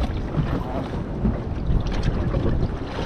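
Strong wind blowing at a beach while fishing for kingfish in the wash zone, a steady loud rumbling roar buffeting the microphone, with surf noise underneath and no talk.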